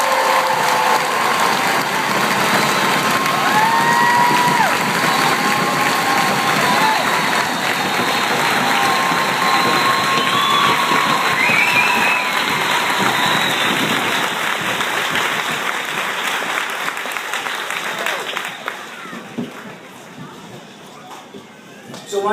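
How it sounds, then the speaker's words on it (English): Large crowd applauding soldiers standing on a field, a dense, steady wash of clapping and cheering that holds for about eighteen seconds before thinning out. "Ladies and gentlemen, a round of applause for these patriots on the field."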